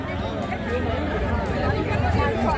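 Dense crowd chatter and hubbub fill the busy temple area at Dwarka, a steady babble of many overlapping voices close around with no single sound standing out.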